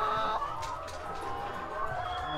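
Chickens on a poultry and maggot farm cluck steadily at middle distance, several birds overlapping in a continuous barnyard chatter with no talking.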